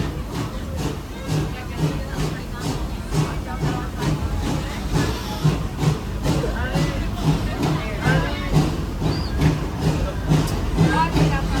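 Serengeti Express amusement park train ride rolling along with rhythmic clacking and hissing, a steady chug under a spoken announcement and crowd noise.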